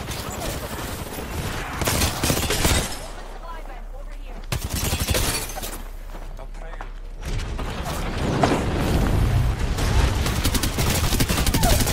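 Gunfire in an Apex Legends solo ranked match: loud bursts of automatic fire and mechanical weapon clatter in several waves, with someone talking over the shooting.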